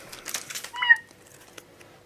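A short cat meow in a video game, a single faint call rising briefly after some light clicking and rustling, then fading into near silence.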